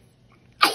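A single sudden sneeze bursts out after a near-silent pause, sharp and close, then trails off quickly.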